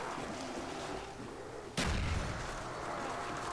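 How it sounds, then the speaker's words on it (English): A single sharp shot rings out from the Kino Der Toten zombies map in the Call of Duty video game, cutting across a steady noisy game ambience that continues after it. "Spamming bullets."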